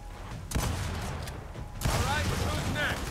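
Gunfire in the Gears of War 4 video game, with two sharp shots about a second apart ringing out over a steady busy game soundscape, the second followed by lingering noise.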